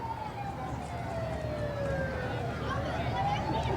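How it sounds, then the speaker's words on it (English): Distant emergency vehicle sirens wail in slow rising and falling sweeps during an outdoor parade, over a steady low rumble of background noise. "I hear sirens in the offing here."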